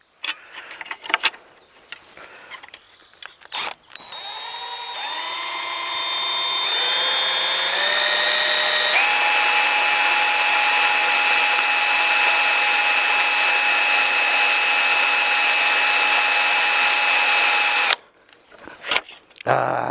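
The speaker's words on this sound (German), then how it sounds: "Aluminium bohren." A power drill boring into aluminium starts with a few short bursts, then spins up to a steady high whine for about ten seconds before stopping abruptly.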